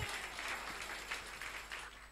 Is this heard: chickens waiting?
no